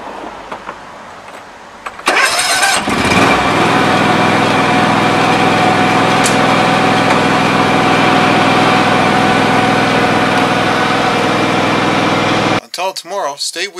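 A John Deere lawn tractor's small engine cranks and catches after a couple of seconds, then settles into a steady, loud idle before cutting off abruptly near the end.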